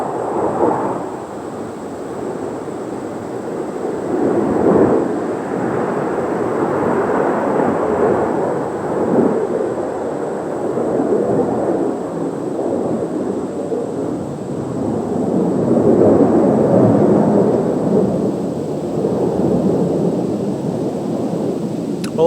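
A jet aircraft roars overhead in a long, broad rumble that swells, eases and swells again as it passes, loud and continuous with no talking.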